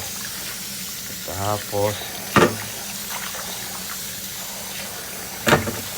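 Meat for Ilocano papaitan is rinsed under a running tap, a steady wash of flowing water with splashes, close by, while someone speaks briefly over it.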